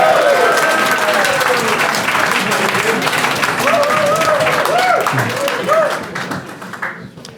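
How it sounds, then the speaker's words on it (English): A comedy club audience applauds and cheers for comedian Nicholas De Santo, a loud, dense wash of clapping and whoops that holds steady before tapering off toward the end, with a few voices calling out over it. "A huge round of applause for Nicholas Santos."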